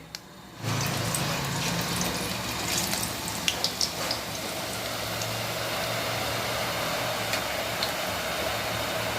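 Gram-flour boondi batter drips through a wet slotted ladle into hot ghee, setting off a steady, dense frying sizzle that begins abruptly and carries on close and even, with no talking.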